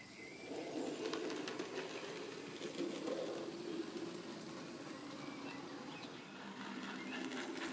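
A Graham Farish 3F Jinty model locomotive runs steadily along its track, giving a continuous faint low rumble and whirr with a few light clicks, with no talking.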